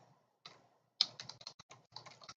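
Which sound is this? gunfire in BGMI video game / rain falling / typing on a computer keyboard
typing on a computer keyboard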